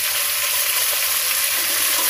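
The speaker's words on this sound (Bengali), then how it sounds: "পরিমাণ লবণ দিয়ে আলুগুলোকে আগে প্রথমে ভেজে নেব" Salted potatoes for a village-style katla fish recipe fry in a pan with a bright, dense, even sizzle close by and no talking.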